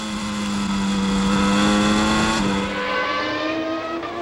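A 1993 Formula 1 race car, with a Sauber on track, screams past in a loud, sustained high-pitched engine wail that rises and then falls away as it passes, with no voices.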